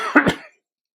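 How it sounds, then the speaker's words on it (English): A single short, close cough with a throat-clearing edge, cut off quickly into silence. "To excuse my coughing"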